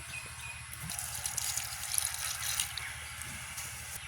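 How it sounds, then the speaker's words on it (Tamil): Water is poured into washed lentils with bottle gourd in a village kitchen, a soft, steady trickle and splash with faint dripping, quiet and close, without talk. "இதுக்கு கொஞ்சம் தண்ணி விட்டால் காணும் பருப்பு வைக்கிறது."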